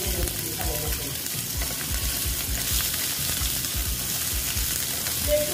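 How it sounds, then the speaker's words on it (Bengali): Potatoes frying in a pan for an aloo bhindi dish, a steady close sizzle with bubbling crackle running throughout, faint stirring scrapes underneath. "আলুটা ভেজে নিচ্ছি ভালো মতো।"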